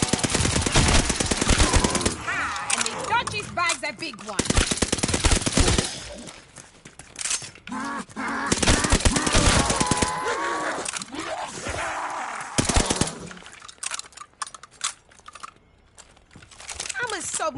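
Submachine gun fire in Call of Duty Vanguard zombies mode comes in dense, loud bursts separated by short gaps, with zombie growls and game noise mixed around the shooting.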